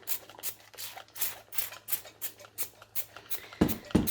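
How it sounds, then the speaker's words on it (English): A spray bottle fires a quick series of short hissing squirts of all-purpose cleaner onto a Cricut cutting mat, evenly spaced, close up, followed by a couple of louder handling thumps. "spray it all over the entire mat,"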